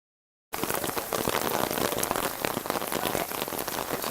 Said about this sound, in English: So now that it's raining